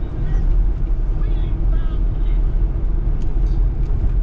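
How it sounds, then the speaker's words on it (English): A 1972 Chevrolet C20 pickup's 350 V8 with headers idles rough through a leaking exhaust, a loud, close, uneven low rumble that runs continuously, missing on some cylinders, while someone talks over it. "Sounds like it's not firing on all cylinders."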